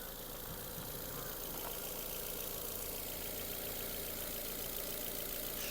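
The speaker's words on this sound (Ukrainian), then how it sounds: "Робота двигуна." A 2011 Ford Fiesta with automatic transmission idles steadily with a low, even hum and faint knocking, fairly quiet and continuous, with no voices.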